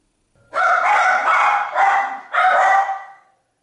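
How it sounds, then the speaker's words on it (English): Dog barking indoors, a few close, loud barks in a quick cluster followed by two more after a short gap. "See, I told you they were barking."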